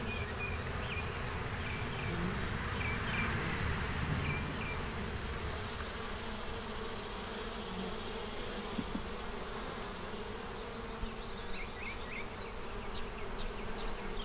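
Honey bees buzz around a hive frame bearing capped queen cells. The droning hum is continuous and fairly quiet, with no talking.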